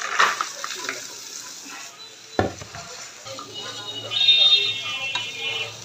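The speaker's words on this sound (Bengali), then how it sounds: "এগুলো এইভাবে লাল লাল করে ভেজে নিতে হবে।" Lentil fritters coated in fish-frying spice sizzle in oil in a pan. The frying hiss runs steadily, broken by a sharp utensil clatter partway through.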